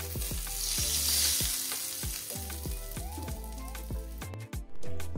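Hot ghee tempering with red chili powder is poured over palak paneer, setting off a loud crackling sizzle that gradually settles into softer bubbling, with background music playing underneath.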